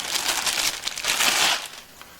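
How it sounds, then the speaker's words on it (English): A plastic bag holding a new lawn mower deck spindle assembly crinkles loudly and close up, in bursts of bright rustling that ease off at the end. "Comes in this plastic bag."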